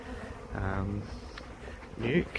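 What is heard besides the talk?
bees buzzing in a hive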